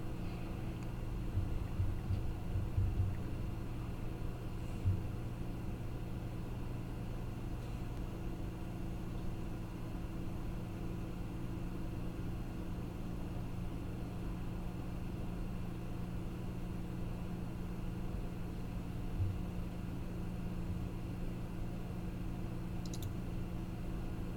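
A car trails close behind a moving vehicle, its steady engine and road rumble a constant low drone, with faint intermittent ticks and no voices.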